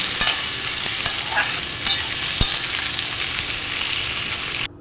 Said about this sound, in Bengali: সব সবজিগুলো ভালো করে আমি ভেজে নিচ্ছি প্রথমে